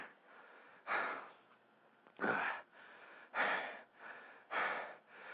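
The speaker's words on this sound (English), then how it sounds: "I know I'm panting here, folks. I know I'm breathing hard" A man on a radio talk show panting heavily while lying on a sofa, with four loud, rhythmic gasping breaths about a second apart and softer breaths between them, close to the mic and without speech.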